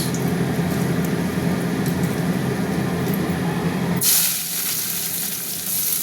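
Onions and dried chillies fry in hot oil with a loud, steady, close sizzle that shifts to a brighter, hissing crackle near the end.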